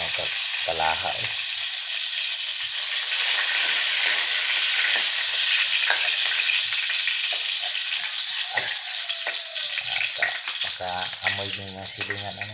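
Garlic fries in oil in a wok with a loud, continuous sizzle and hiss close by. A voice speaks briefly at the start and again near the end.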